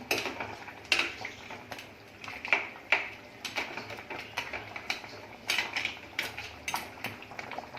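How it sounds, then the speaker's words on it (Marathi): A spoon stirring black crab curry, Alibag style with a besan stuffing, in a metal pot. It gives sharp, irregular metallic clinks and scrapes at close range, with soft bubbling in between. "आता थोडं ढवळून घ्यायचं खालीवर करून घ्यायचे आहेत"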